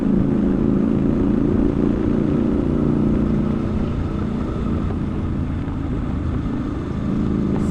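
A Triumph Scrambler 1200 XE twin-cylinder motorcycle rolls on the throttle through a bend, its engine a steady, loud droning rumble heard close up with rising and settling revs as it rides.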